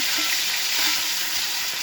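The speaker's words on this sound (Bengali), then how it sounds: "এদিকে মাছ ভাজা করছি।" Fish fries in a pan on a home kitchen stove, giving a loud, even sizzle and hiss that holds steady for a couple of seconds with no talking.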